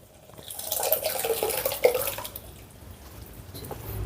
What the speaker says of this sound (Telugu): ఇప్పుడు మనం ముందుగానే ఉడికించి పెట్టుకున్న ఈ పప్పును ఇందులో వేసుకుందాం